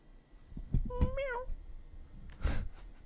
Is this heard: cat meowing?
yes